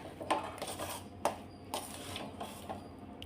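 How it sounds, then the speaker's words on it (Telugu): Semolina gulab jamun dough being stirred in a pan, giving soft scraping and occasional spoon clinks against the metal at an uneven rhythm, close and fairly quiet with no talking. "మొత్తం ఇలా దగ్గరికి అయ్యేదాకా కలుపుకోవాలి"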